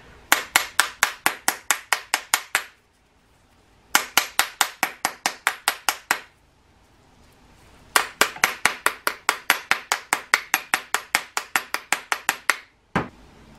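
A 3D donut bath bomb mold is tapped in rapid, even bursts of sharp knocks, roughly ten per burst, in three long runs separated by brief pauses, close and loud, ending with a single tap.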